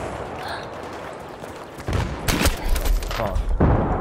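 Gunfire in Battlefield 3 breaks out after a quiet stretch, with several sharp close shots and heavier booming impacts cracking over rumbling battle ambience.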